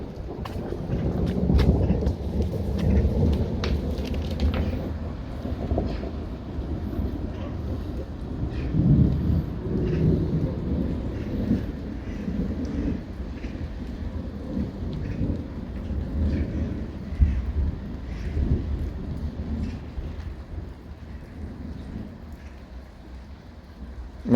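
Supernatural-seeming thunderstorm with non-stop thunder and falling rain, a long, steady low rumble that barely lets up, rain pattering throughout and some wind buffeting the microphone.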